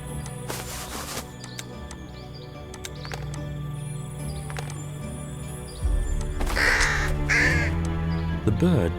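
A crow caws several times in a farm-set mystery detective adventure game, harsh repeated calls over a steady ambient game background.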